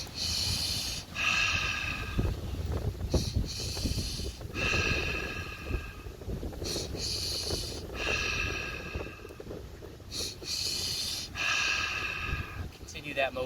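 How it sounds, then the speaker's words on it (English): Guided physiological sigh breathing, done as two quick sniffs through the nose followed by a long exhaling sigh, repeated in a steady cycle, close and clear with faint background hiss. "we're going to do the physiological sigh, or 2 sniffs and a sigh"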